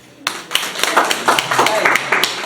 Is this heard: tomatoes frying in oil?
no